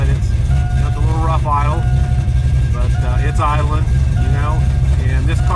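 A car fitted with an electric choke idles on a cold morning of about 28 degrees, with a steady low engine rumble running underneath. A person talks over the idle for most of the clip.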